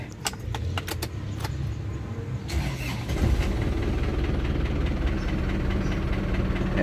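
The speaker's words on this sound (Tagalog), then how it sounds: "Start natin makina." Keys jingle briefly, then an Isuzu Crosswind engine with a noisy power steering pump cranks and catches, settling into a steady, close idle rumble that continues to the end.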